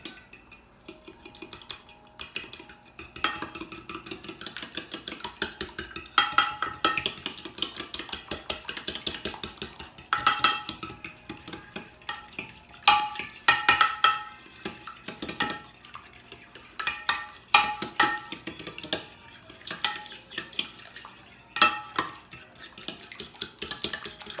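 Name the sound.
mixing French toast batter in a bowl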